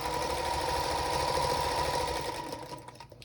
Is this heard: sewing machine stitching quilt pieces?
yes